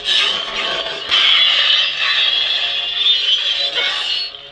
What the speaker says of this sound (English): that's the sound of the lightsaber clashing with the Beskar staff